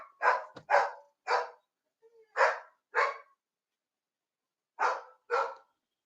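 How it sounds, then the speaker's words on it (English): Dogs barking in short loud bursts, two quick barks, a single bark, a pair, a pause, then two more, near and clear over silence with no talk. "Dogs are barking."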